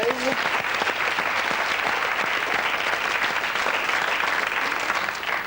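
Studio audience applauding game show contestants on a French television quiz, a dense, steady burst of clapping that carries on through the whole stretch, loud and close, with a brief voice at the very start.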